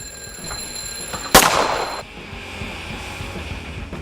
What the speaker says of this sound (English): When it rings, this alarm will immediately shoot you in the face.